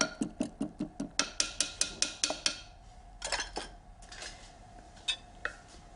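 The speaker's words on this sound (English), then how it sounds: "Whisk up, and they're ready to be griddled." Pancake batter made with baking powder is whisked in a bowl: a fast, even run of close tapping clinks against the bowl, then a pause and a few scattered, lighter knocks.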